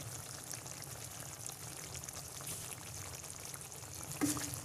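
Five-spice powder and green chilies stirred while frying for a green chili pickle, a faint soft sizzle with light stirring scrapes and a brief clink near the end.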